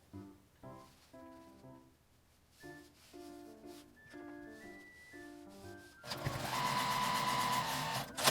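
A domestic sewing machine stitches along the folded, ironed edge of fabric for a small shoulder tote, running in short whirring bursts with pauses, then fabric rustles loudly near the end.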